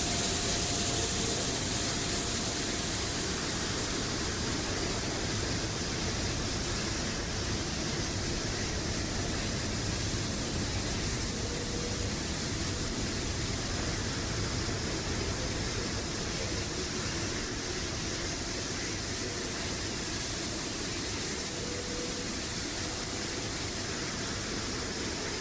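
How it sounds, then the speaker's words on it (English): Boeing 767F jet engines heard from inside the cockpit in the Flight Factor 767F flight simulator, a steady broadband roar that holds at an even level for the whole stretch, with no talking. "from inside, by the way, these engines sound like pretty good"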